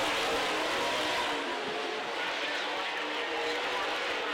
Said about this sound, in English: But Lorimore's got some horsepower in that 90 car